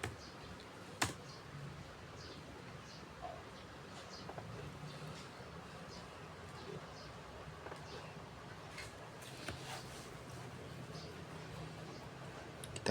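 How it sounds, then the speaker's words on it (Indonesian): Keys tapped on a computer keyboard while entering a network command, a soft run of scattered clicks with no talk, faint and close in a quiet room. "kita akan mengetik netstat."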